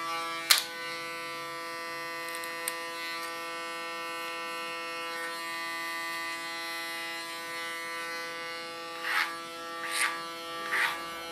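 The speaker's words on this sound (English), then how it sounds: "Use my clipper as a comb." An electric hair clipper hums steadily throughout a mohawk haircut, used as a comb while cutting the hair, with a few brief louder buzzes near the start and again toward the end.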